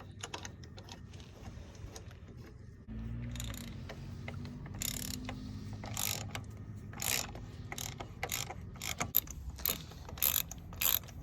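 A socket and extension set clicks and ratchets as a wheel and tire are fastened onto a Subaru Justy, with a run of close, quick ratcheting clicks and taps following a quieter stretch.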